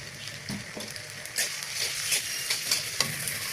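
Chopped onion sizzling and frying in a hot wok for a beef liver bhuna, with a steady crackle broken by scraping stir strokes that swell louder midway; no one talks.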